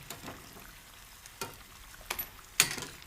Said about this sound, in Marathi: आता हे काढून घेऊया आपण सगळे, आणि उरलेले पण तळून घेऊया.